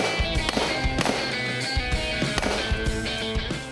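Rapid shots from an LWRC rifle at a shooting range, a run of sharp loud cracks at uneven intervals with ringing echoes between them.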